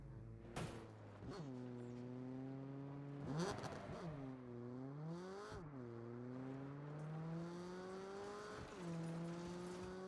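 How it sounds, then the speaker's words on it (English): Car engine in the Saints Row video game revs up and down in repeated sweeping pulls, with gear-change dips and brief clunks, loud and close with no talk over it. "they did really good with the engine sounds"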